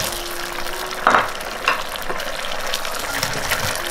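Shrimp and pineapple stir-fried in thickened tomato sauce in a hot pan give off a steady close sizzle, with two brief louder bursts of scraping and tossing near the start.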